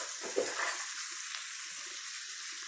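Stir-fry chicken frying in a pan, a continuous bright sizzle with a few scraping stirs near the start, steady and close throughout.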